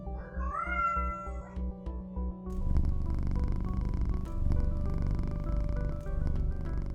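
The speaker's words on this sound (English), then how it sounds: "supervising as always is Vega the cat" A cat meows with rising and falling cries over the first few seconds, then settles into a steady, close, continuous purr that runs to the end.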